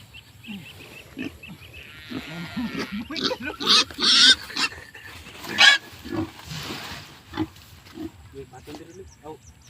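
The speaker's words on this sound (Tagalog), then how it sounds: "Ito na yung baboy" A pig grunting and squealing while being moved to a new place, several loud squeals and snorts over a low hum, mixed with people talking nearby.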